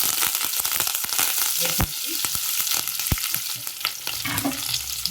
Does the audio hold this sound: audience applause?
no